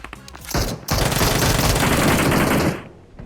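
Rapid gunfire from a mobile shooter game played on an iPad Mini 6, a dense loud burst of shots lasting about two seconds after a short opening pop, then cutting off.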